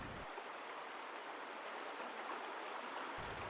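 The Kara-Koyun River in Kyrgyzstan flows in a steady, soft broadband rush, even and unbroken, heard alone with no voices.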